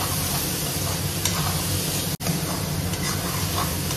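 Tomatoes fry with salt and spices in hot oil for a homemade Assamese-style lobia dish, a steady close sizzle with light stirring scrapes and one brief break, no talking.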